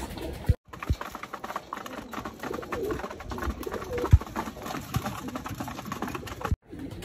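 Homing pigeons coo softly and repeatedly at close range, back from a rainy training flight out of Leonardo, Nueva Ecija, with light patter and shuffling around them and no talk.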